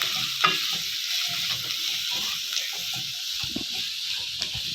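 Onions sautéing in a pan for a clam roast: a steady, close, moderately loud sizzle with a hiss in the upper range, overlaid by light scrapes and taps of stirring and no voices.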